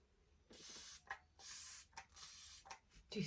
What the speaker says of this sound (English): It is literally like you're spraying yourself like with nothing.